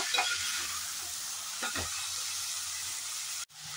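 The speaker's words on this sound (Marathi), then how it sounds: "हे पण ह्या तेलात चांगले फ्राय करून घ्यायचे आहे, मऊ होईपर्यंत." Chopped onion and tomatoes frying in oil, a steady close hiss of sizzling with a couple of soft stirring scrapes and a brief cut-out just before the end.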